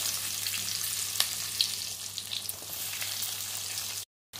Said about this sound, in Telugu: ఈ ఆయిల్లో ఉల్లిపాయలు వేసుకుంటాను.